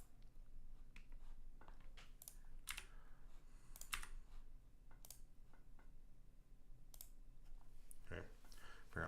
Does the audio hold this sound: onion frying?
no